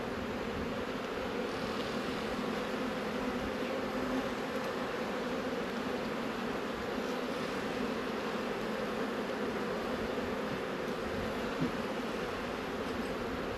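Dense, steady buzzing of many honey bees around an open hive with brood boxes and honey supers, a continuous close swarm drone with no talk.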